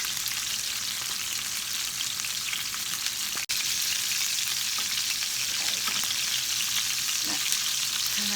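Porcupine meatballs browning in a frying pan give a steady, loud hiss and crackle of hot oil throughout, with a single sharp clack partway through and no talk.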